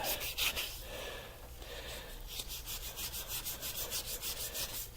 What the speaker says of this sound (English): Sanding aluminum's not that bad.